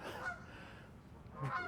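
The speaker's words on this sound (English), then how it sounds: "some birds cruising by" Geese honk faintly in the distance as they fly past outdoors beside an overland Toyota Tacoma camper build, a few soft honks at the start and end over a breezy background.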